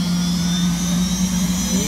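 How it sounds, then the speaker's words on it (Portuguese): A helicopter flies near an amusement park, its steady turbine whine and droning rotor hum holding continuously and loud for a couple of seconds. "Que lindo esse helicóptero."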